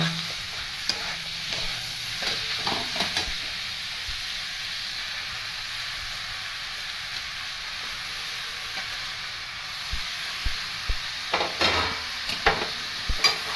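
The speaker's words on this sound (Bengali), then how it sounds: "দিয়ে ভালো করে ভাজবে বাঁধাকপিটা এরকম কড়ায় চারধারে মিলিয়ে মিলিয়ে ভাজতে হবে" Cabbage frying and being stirred in a kadai, a steady close sizzle and hiss running throughout with scraping stir strokes clustered near the start and again toward the end.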